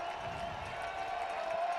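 A stadium crowd roars in NCAA Football 2025 at UC Davis Health Stadium for Idaho State at UC Davis, a steady wash of distant cheering and applause.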